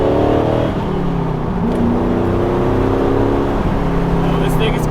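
An LS V8-swapped Mazda RX-7 FD street car accelerates hard, its engine a steady, loud, rising drone heard from inside the cabin, with a brief dip around a gear change before climbing again.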